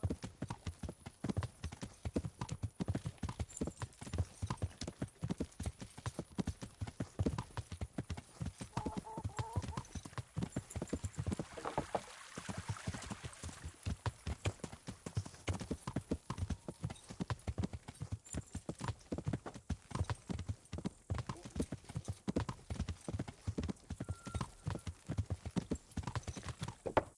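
Horse hooves clip-clop steadily in a console video game, a dense rapid rhythm running close and continuous throughout, with faint in-game voices now and then.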